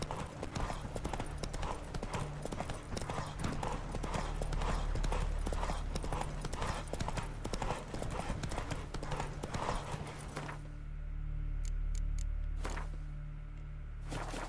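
Geralt's horse Roach galloping in The Witcher 3, a rapid steady clip-clop of hooves over ambient noise for about ten seconds before slowing to a few separate thuds.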